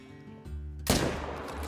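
A single loud rifle shot in theHunter: Call of the Wild, a sharp crack with a long booming tail that cuts through a quiet, droning outdoor background.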